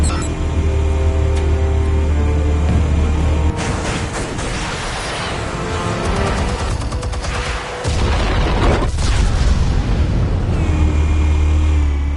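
Explosives detonate in Batman: The Telltale Series, loud booming blasts with crackling debris and rumbling low end, building through a chaotic mid-section before settling into a heavy sustained drone.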